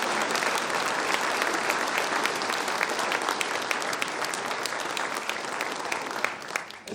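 Audience in a hall applauding local town associations at a New Year's greetings ceremony in Saint-Sever, dense sustained clapping from a crowd that fades at the end.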